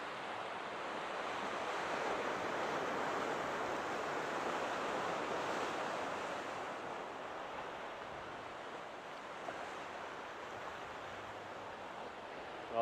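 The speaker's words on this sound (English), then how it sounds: "listening to these waves roll in, breathing in that ocean air" Ocean waves roll in against cliffs on an overcast day near San Diego, a steady, broad wash of surf that swells and eases slowly under light wind, with no voices.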